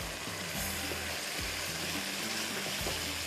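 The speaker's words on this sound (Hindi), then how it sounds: "थोड़ा सा आप चम्मच चलाएंगे ना, ज़रा सा भी वो जैसे मसाले साबुत होते हैं वो भी भून जाते हैं" Whole spices roast in a hot pan with chilli sauce and vinegar, a steady close sizzle broken by a few soft scrapes of a stirring spoon.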